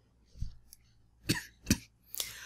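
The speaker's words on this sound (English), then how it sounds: "I had to cough there for a second" Three sharp coughs at close range, spaced about half a second apart, preceded by a softer throaty sound in an otherwise quiet room.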